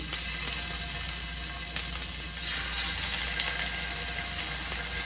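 Vegetables for veggie champuru fry in a pan over high heat with very little oil, a steady broad sizzle that swells louder partway through as more pieces go in, close and continuous with no talking.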